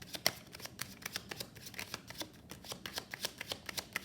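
Tarot cards being riffled and shuffled by hand, a steady run of sharp papery flicks and snaps repeating several times a second, close and fairly quiet, with no voices.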